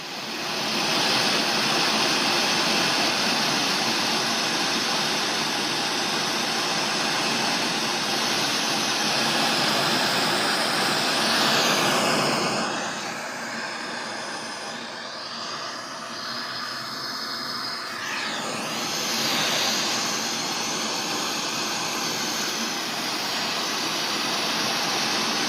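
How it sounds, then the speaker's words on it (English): An airline jet engine roars as a steady, loud broadband rush with hiss, dipping in level partway through before swelling again; no speech is heard. "This is an airline jet."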